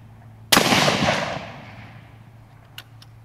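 A single loud blast from a 12 gauge sawed-off shotgun loaded with buckshot, a sharp close report whose echo trails off over about a second, followed by a faint small knock.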